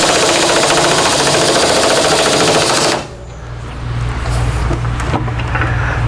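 A gear puller tears a motor pulley off an air compressor pump during repair: a loud, rapid rattling clatter for about three seconds, then it stops abruptly and leaves a lower steady mechanical hum with faint clicks.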